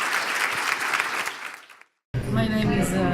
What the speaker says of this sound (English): Can we all thank Ranka with a great applause for this wonderful